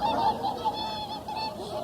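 Swans calling while being fed, a series of nasal honking calls from several birds, moderately close and overlapping, with no speech.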